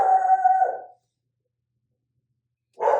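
Pixie the dog lets out a close, tonal howl lasting about a second, then silence, then another short howling yelp starts near the end.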